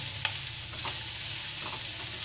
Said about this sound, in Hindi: भिंडी की हमारी टेस्ट की कोटिंग अच्छी हो गई है और थोड़ी फ्राई भी हो गई है